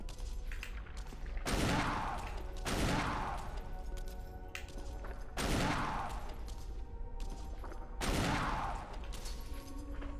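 Gunfire in the survival horror game Resident Evil, heavy reverberant shots repeating about every one and a half to two and a half seconds, each followed by a long decaying rumble, fairly loud and steady.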